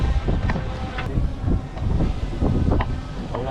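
A boat moving out at sea around sunset, its low engine and hull rumble running steadily under heavy wind buffeting the microphone.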